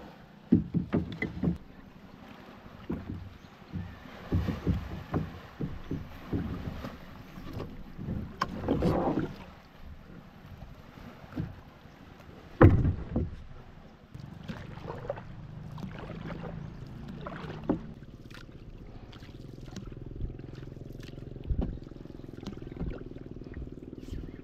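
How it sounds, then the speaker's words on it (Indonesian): Oars dip and splash in water with a steady rowing rhythm, wooden knocks and creaks from a wooden rowboat between strokes, close by, with faint wind and no talking. "saya akan mendayung sangat jauh"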